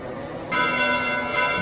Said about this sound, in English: Bells? This late at night?